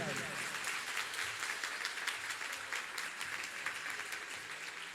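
An audience claps at a Jain religious discourse (mangal pravachan) in Pratap Nagar, Jaipur: dense, steady applause from a large crowd continues throughout, with a voice faintly beneath it.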